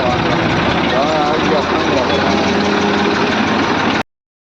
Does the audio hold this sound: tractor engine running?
yes